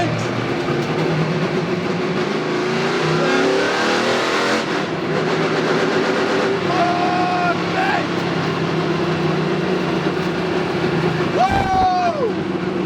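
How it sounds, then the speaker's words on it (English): A NASCAR race car engine idles and revs loudly up close, steady and dense throughout, as it is put into gear and the whole car shakes; voices talk and shout over the engine. "Putting it into gear is brutal! The whole car shakes!"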